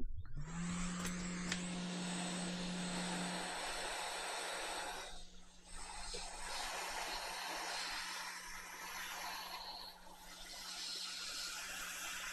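A hot air rework station blowing on an Asus Chromebook circuit board to reflow solder, a steady close airflow hiss with a tonal whine at the start, continuing with slight dips for the whole stretch.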